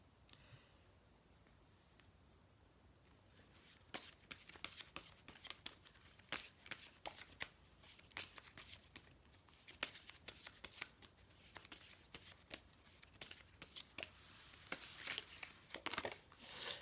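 Tarot oracle cards are shuffled and gathered by hand at close range: quiet, repeated papery riffles and soft slaps in uneven bursts, growing busier partway through, with no talking.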